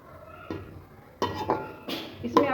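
A metal lid is set onto a pot of arbi curry with a few clanks and rattles, one sharp knock and then two louder clattering bursts close by.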